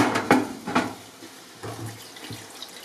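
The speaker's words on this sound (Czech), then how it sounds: "Chapadla jsou pokrájená, nyní je jenom v rychlosti propláchnu ve vodě" Chopped octopus tentacles rinsed quickly in water at a kitchen sink, giving a few short, splashy bursts of running water separated by quieter gaps, close and moderately loud.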